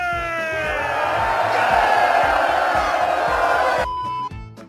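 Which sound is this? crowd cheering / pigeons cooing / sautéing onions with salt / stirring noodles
crowd cheering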